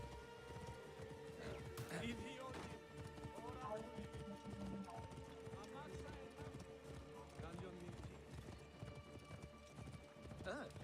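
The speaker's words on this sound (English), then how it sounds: "I don't think you should be riding a horse like that if you have a broken hip." Horse hooves clip-clopping at a steady gallop in Assassin's Creed Origins, close and continuous for about eleven seconds, with occasional whinnies and speech over the hoofbeats.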